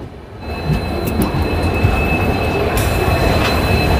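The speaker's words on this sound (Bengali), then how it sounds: "আমাদের ট্রেন ঢুকছে ভুবনেশ্বর স্টেশনে।" The Howrah-Puri Superfast Express pulls into Bhubaneswar station with a loud, steady rumble of wheels on rails, a thin sustained squeal of wheels riding above the clatter.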